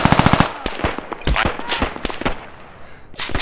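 Rapid bursts of automatic gunfire and single shots in the military shooter game Squad, loud and close at the start, then scattered sharper reports trailing off with brief gaps.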